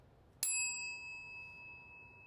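A single small bell ding from Clarence 2.0, a homemade notifier, struck once and left to ring on in a clear sustained tone that slowly fades over quiet room noise.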